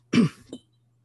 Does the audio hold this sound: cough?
yes